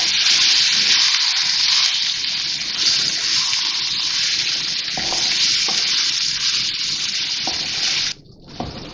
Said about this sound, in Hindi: अब इसको भूनेंगे ज़रा कीमे को